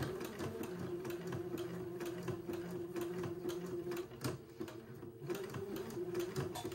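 A sewing machine zigzag-stitches along a folded front shoulder seam on a child's garment, giving a steady rapid mechanical whirr with a fast rhythmic needle clatter, close and continuous, with no talking.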